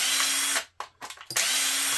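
Power drill with a number 1 bit backing screws out of a power strip for scrap brass, whirring loudly, cutting off briefly with a few clicks, then spinning up again.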